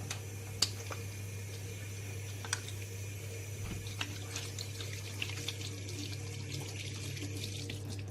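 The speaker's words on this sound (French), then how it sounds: "avant tout, il faut se laver les mains" Hands being washed under a running kitchen tap before baking a chocolate fondant: a steady, quiet stream of water with small splashes and occasional light ticks, no voices.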